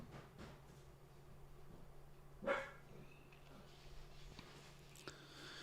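A dog gives a single faint bark midway through, heard distantly over a low steady room hum with a few soft clicks.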